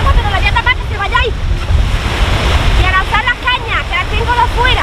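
Strong wind blows outdoors beside a reservoir during a carp-fishing session, roaring steadily into the microphone with gusty rumble, while birds chirp faintly behind it.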